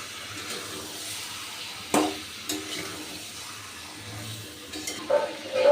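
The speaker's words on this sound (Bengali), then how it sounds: "এবার মশলার সাথে চিকেনটাকে আমি খুব ভালো করে কষে নেব" Marinated chicken stirred and fried with spices and gram flour. A soft, watery sizzle murmurs underneath, broken by a few sharp scraping clunks of the spoon in the pot, quiet and close, with no talking.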